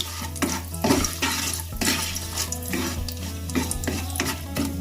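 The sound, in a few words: whole spices and bay leaves stirred in hot oil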